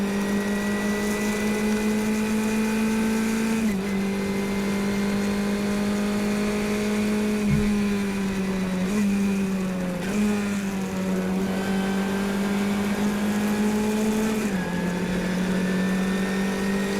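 An in-car racing engine at an SCCA regional race at Watkins Glen drones loudly and steadily, with pitch dips at gear shifts and braking, then climbing again as it accelerates, without talk.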